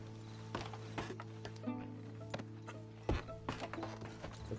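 Horse hooves in Red Dead Redemption 2, clopping in an irregular walking rhythm at moderate distance, fairly quiet over a steady low hum.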